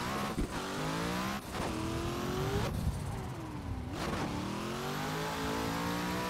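Race car drifting in a racing video game, the engine revving hard in repeated rising pulls broken by quick gear shifts, with tyre squeal, loud and continuous.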